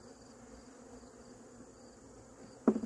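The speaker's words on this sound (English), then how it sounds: "when these bees steal, they just destroy the hive" Honey bees robbing a hive make a steady, faint buzzing hum that lasts throughout, ending with a sudden brief knock or rustle close by.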